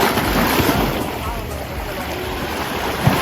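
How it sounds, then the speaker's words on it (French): Sea waves washing onto a small Croatian beach, a continuous broadband wash of surf mixed with wind buffeting the microphone, fairly loud and close. "Voilà la petite plage où on est arrivé."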